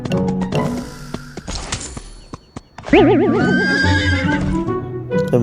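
Horse neighing in the Free Fire video game, a loud wavering whinny rising out of game noise about midway and holding to the end, with scattered in-game clatter before it.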